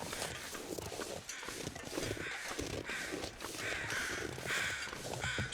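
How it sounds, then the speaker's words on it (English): Crows caw repeatedly in the wintry wilderness of the survival game The Long Dark, the calls fairly clear over a steady, dense ambient wind bed with no talking. "To the relaxing sound of birds."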